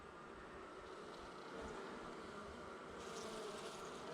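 Honey bees buzz at the hive in a dense, continuous hum, faint but steady, with the swarm's drone swelling slightly partway through.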